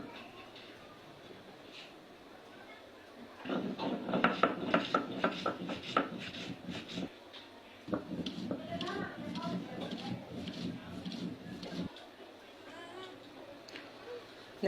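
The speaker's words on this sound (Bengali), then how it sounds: "মেশিন করে বেটে নিতে হবে।" An electric kitchen grinder crushes dried red chilies, a loud, dense rattling grind that starts a few seconds in, breaks off briefly, resumes, then cuts out near the end.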